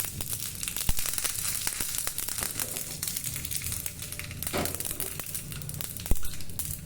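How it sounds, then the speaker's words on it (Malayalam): Mustard seeds spluttering in hot oil while making sambar: a steady sizzle with scattered sharp pops and crackles, close and fairly loud, with no talking. "കടുക് ഇടുക. ഇത് പൊട്ടുമ്പോൾ"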